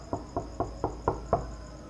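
Knocking on a door as an audio drama effect: six evenly spaced soft knocks, close and fairly quiet, against a faint steady background hum.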